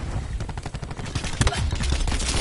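Rapid gunfire in a first-person shooter video game, a dense, loud burst of overlapping shots with continuous rattling throughout.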